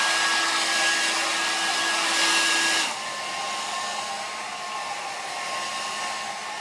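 A hair dryer blows steadily on hair freshly set with organic hairspray, a loud continuous whirring rush that shifts to a slightly lower, quieter setting partway through, with no voices.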